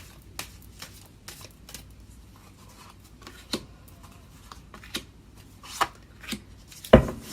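Tarot cards being shuffled by hand, close and quiet, with scattered soft riffles and taps separated by pauses and a sharper card snap near the end.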